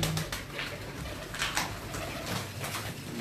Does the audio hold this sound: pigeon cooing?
yes